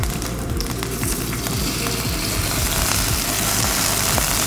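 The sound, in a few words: Canadian bacon searing in oil in a pan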